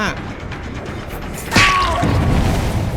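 A sudden loud boom as a generator explodes midway through a Dead by Daylight game sequence, followed by a sustained rumbling roar.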